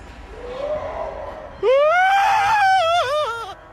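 A man's terrified scream rises sharply and holds loud and close for about two seconds, following a quieter wavering cry, with a faint crowd murmur beneath.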